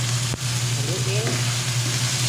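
Bicol express with tomato and shrimp paste frying in a pot, giving a steady close sizzle over a low hum, broken by one sharp click of the stirring utensil.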